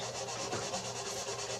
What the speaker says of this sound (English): this is 4/0 steel wool, real fine steel wool